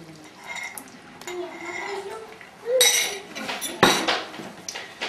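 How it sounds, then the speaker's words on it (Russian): Beaten egg pours into a buttered frying pan for an omelette, giving a soft liquid sizzle, then louder clinks and scrapes of utensils against the pan, close and intermittent. "Вливаем яйцо."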